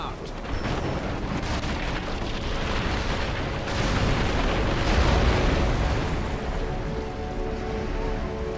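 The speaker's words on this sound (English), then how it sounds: "the Corsair's vessels bear siege engines, raining fire upon us!" Corsair ships firing siege engines in the video game Battle for Middle Earth 2, a continuous dense roar of booming impacts and rumbling fire that stays loud and unbroken throughout.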